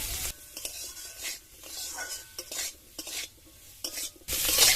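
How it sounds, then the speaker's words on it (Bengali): Bitter gourd and potato sizzle in a hot pan as a spatula scrapes and stirs in short bursts, with a louder hiss of frying at the end. "উচ্ছেটা দিয়েও খানিকক্ষণ উচ্ছেটা ভেজে নেব"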